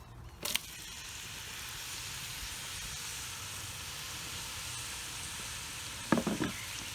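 Chopped chuck roast searing in a Dutch oven on a wood stove, a soft steady sizzle throughout with a couple of brief scraping clatters near the start and end, quiet and close, no talking.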